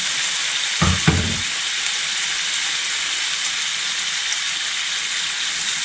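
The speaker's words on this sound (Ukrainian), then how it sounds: "Олія розігрілася, додаємо сосиску та обсмажуємо." Steady hissing sizzle of sausages frying in hot oil in a pan, with a couple of brief clunks near the start, no talking.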